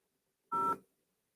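A single short burst of telephone keypad dialing tone, one clean beep alone against near silence.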